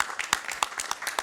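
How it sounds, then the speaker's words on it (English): A small audience applauds at a Rotary club presidential installation, a short burst of scattered clapping with a few sharper individual claps standing out. "I think that deserves a big round of applause."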